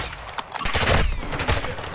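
Gunfire from a tower in an online multiplayer shooter rattles out as a loud, dense fusillade of rapid overlapping shots.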